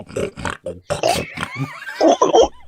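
A voice imitates a pig, with a string of grunting snorts followed by a high, wavering squeal and a few more nasal oinks, close and loud.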